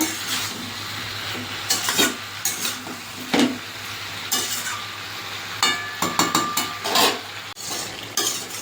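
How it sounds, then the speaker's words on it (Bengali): Vegetables stirred together with ginger and radhuni paste in a pan, with repeated loud scrapes and clinks of a metal spoon in uneven bursts over a light sizzle. "ভালো করে এবার সবজির সঙ্গে মিশিয়ে নেব"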